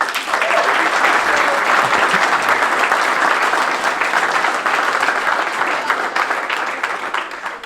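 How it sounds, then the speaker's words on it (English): Loud, continuous applause from the crowd at the 2023 Polynesian Youth Cup presentation ceremony, a thick, steady roar of clapping that holds strong throughout and eases slightly at the end. "So I want to give a big round of applause."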